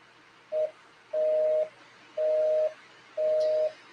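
Telephone busy signal from a prosecutor's office line left off the hook: four evenly spaced steady tone bursts, clean and moderately loud, with no talking.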